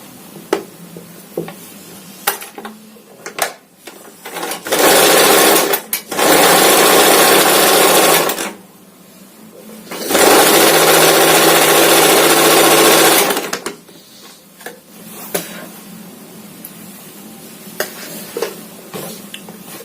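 A sewing machine stitches pieces of a long boat-neck princess-cut frock together at the shoulder, loud rapid whirring in two bursts of a few seconds each, with quieter handling clicks and rustles between them.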